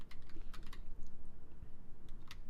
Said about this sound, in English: I'm just typing whatever.